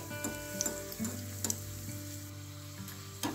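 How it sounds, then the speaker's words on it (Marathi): Snacks deep-fry in hot oil with a close, bubbling sizzle, dotted with occasional sharp clicks and taps from a utensil against the pan. "तेलामध्ये आपल्याला हे जे स्नॅक्स आहेत हे छान असे तळून घ्यायचे आहे"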